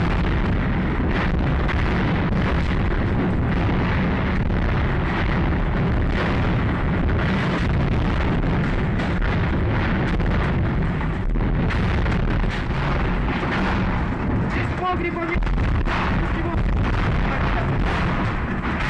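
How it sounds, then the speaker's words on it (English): Explosions from a burning ammunition depot in the Ukraine war, heard as a continuous loud rumble with repeated booms and bursts, wind buffeting the microphone throughout. "The explosions are getting closer because they're getting brighter."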